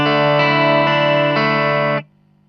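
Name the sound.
guitar with reverb effect from BOSS GX-1 multi-effects unit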